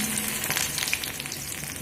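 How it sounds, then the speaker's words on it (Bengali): Dried red chillies and chopped garlic sizzle in hot oil, a close, continuous crackling hiss with a few sharper pops and clicks, with no talking. "এবার আমি এখানে ফোড়ন হিসেবে দেব শুকনো লঙ্কা আর দেখুন এখানে দিয়ে দেব রসুন কুচি"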